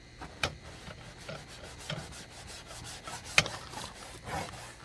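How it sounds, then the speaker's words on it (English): Brush scrubbing water stains off a boat hull, faint back-and-forth rubbing strokes with a few sharper scrapes, close and quiet with no talk. "Just give her a good scrubbing."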